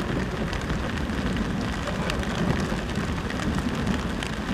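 Steady rain falls outdoors during a rainy bicycle tour near Bremen, a dense, even hiss of drops close by that continues without pause throughout.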